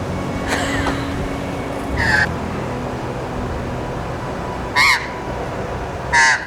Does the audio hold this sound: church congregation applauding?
no